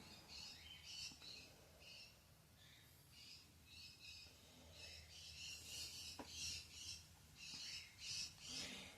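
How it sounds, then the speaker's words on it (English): Several birds squawk and chirp harshly in bursts, fairly distant and faint, with scratchy rubbing noises in between. "I don't know why the birds are throwing such a screaming fit."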